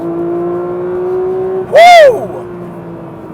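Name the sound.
Porsche 992.2 GT3 engine accelerating on Spanish roads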